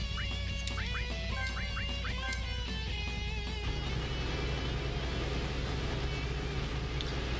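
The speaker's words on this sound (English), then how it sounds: "Why are birds living in a cave" Quacking duck-like bird calls in a cave area of the video game Touhou Fantasy, a quick run of short nasal calls over a constant noisy background that fades into a steady hiss, with no voices.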